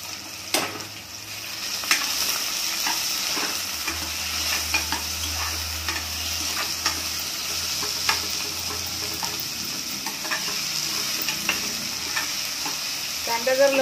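Chopped onion hits hot oil with fried garlic over a high flame, giving a loud, steady sizzle with repeated scrapes and clicks of a spatula stirring the pan, close up with no voices.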